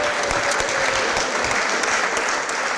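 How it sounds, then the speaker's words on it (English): Loud, sustained round of clapping from the chamber at a St. Louis Board of Aldermen meeting, close and dense with sharp individual claps standing out. "Let's give them one more round of applause."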